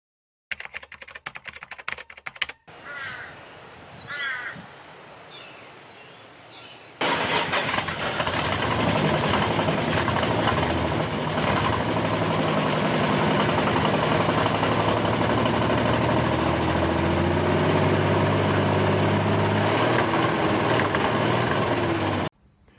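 After some faint clicking, an engine cranks and fires up, then settles into a steady, loud idle that runs unbroken for about fifteen seconds, fed from a jerry can with its fuel return line running back into the can.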